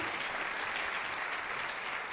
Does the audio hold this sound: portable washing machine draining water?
no